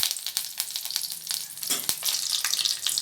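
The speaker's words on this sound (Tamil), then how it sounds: "எண்ணெய் சூடானதோ கடுகு உளுத்தம்பருப்பு கொஞ்சமாக சேர்த்துக்கலாம்" Mustard seeds and urad dal frying in hot oil in a pan, a continuous loud sizzle with scattered sharp pops and crackles throughout, with no voices.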